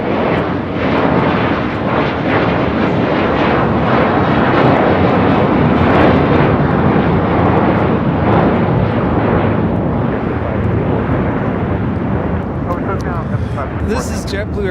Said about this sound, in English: This is JetBlue Airways 524 in the first Mint livery taking off to JFK